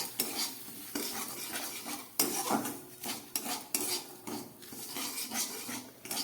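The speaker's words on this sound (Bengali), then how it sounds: "একদম গ্যাস কমিয়ে হালকা হাতে এটাকে খুব ভালো করে ভেজে নিতে হবে।" A spoon repeatedly scrapes and clinks against a pan as semolina and a bay leaf are roasted over low heat for suji barfi, in irregular close strokes with no voices.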